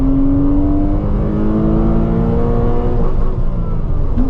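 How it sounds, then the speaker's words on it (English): A Porsche engine held at high revs against a hard rev limiter, droning steadily near and loud with a slight falling pitch, then briefly bouncing and cutting at the end. "rev it until you hit the limiter now"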